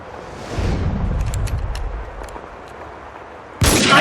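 Sniper fire in the video game Max Payne 2, a low rumbling burst followed by faint distant cracks and then a sudden loud, harsh blast at the end.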